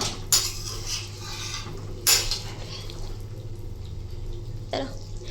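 Fried lentil bori and potato curry stirred in a pan with a utensil, three sharp scraping clinks against the pan over a steady low kitchen hum, no talking.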